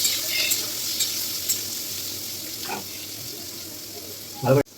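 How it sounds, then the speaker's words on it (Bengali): Potatoes frying in a pan make a soft, continuous sizzle, with a few light stirring scrapes and a louder clatter near the end. "এবার এটাকে ভালো করে নাড়িয়ে করে ভাজা করতে হবে।"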